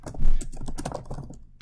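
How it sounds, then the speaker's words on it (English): Rapid typing on a computer keyboard while entering a new graph title, a dense run of close, crisp key clicks with no speech. "Once you double click on the title, you're going to be able to type a new title."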